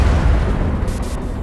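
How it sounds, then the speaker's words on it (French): A deep, rumbling explosion fills the whole moment in a Watch Dogs Legion game trailer, heavy and booming with no voices over it. "Des explosions."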